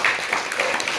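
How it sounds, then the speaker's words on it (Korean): An audience at a Buddhist temple ceremony in Jecheon applauds, a brief burst of dense, steady clapping from many hands at moderate distance. "여러분 감사의 박수 한번 보내주시기 바랍니다"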